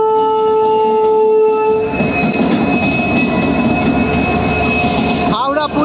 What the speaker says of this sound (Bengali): 12837 হাওড়া পুরী সুপারফাস্ট এক্সপ্রেস ঢুকে গেছে